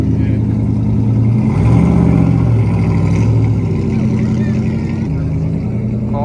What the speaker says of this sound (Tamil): இங்கே ஒரு கார் ஆன் பண்ணி இன்ஜின் ஸ்டார்ட் பண்ணியிருக்காங்க.